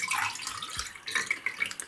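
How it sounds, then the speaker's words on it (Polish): Water poured into a container beside a ham set out for smoking, a short splashing, trickling pour of moderate loudness heard close up with no talk. "Tutaj naleję wodę"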